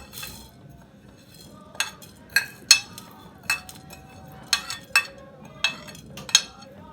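Coriander seeds and cumin go into a pan for an Arabic seven-spice masala: about eight crisp clinks and rattles land near the listener at uneven intervals over a quiet background.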